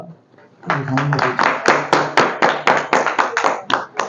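Applause from an audience at a Durga Puja award ceremony (Sarad Samman 2023) for the Panchanantala Sarbojonin Durgotsav committee. A brief murmur of voices comes first, then steady, loud, rhythmic clapping builds and fills the rest.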